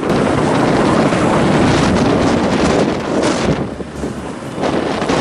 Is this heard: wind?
yes